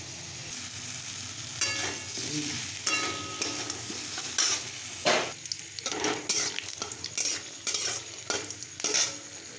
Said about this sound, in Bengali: তো আমি আলুটা তো সিদ্ধ করে ফেলেছি, এটাকে আমি ভালো করে ম্যাশ করে নেব।